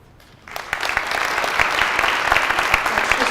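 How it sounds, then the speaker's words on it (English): Audience at a gubernatorial candidate forum breaking into applause, starting abruptly after a brief quiet moment and swelling into a steady, dense patter of clapping that builds and holds to the end. "Let's just give another round of applause for making it here to come together."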